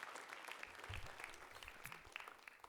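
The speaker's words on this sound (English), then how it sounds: "give a big round of applause to all the teachers that put so much work into this every year" Audience applause for the teachers at a school writers' week event, a steady quiet patter of many hands clapping for a few seconds with no talk.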